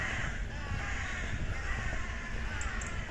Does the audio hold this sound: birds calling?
yes